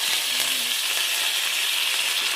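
Curry leaves dropped into hot oil in a pan for an eggplant palya, giving a steady, loud hiss and crackle of frying that continues evenly throughout without speech.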